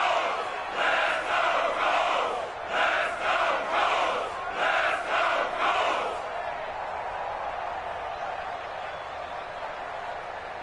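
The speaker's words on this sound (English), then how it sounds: "the crowd getting into it as we come up on a big 3rd down." A stadium crowd in an American football video game roars during a big third-and-goal play, a dense rhythmic pulsing chant swelling in bursts for several seconds before settling into a steady, softer crowd murmur.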